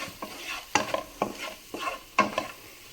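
Egg masala and coriander powder are stirred in a frying pan, with soft sizzling under a few sharp scrapes and knocks of a spoon against the pan in an uneven rhythm, close and quiet.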